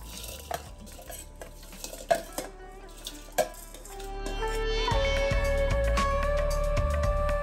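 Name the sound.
rice and lentils poured into a Pongal pot of boiling water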